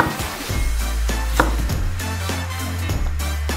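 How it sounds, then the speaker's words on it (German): A kitchen knife cuts potatoes into slices and then sticks on a board, a series of close, sharp chops in an uneven rhythm over a low background hum. "Als nächstes ist das Schneiden dran."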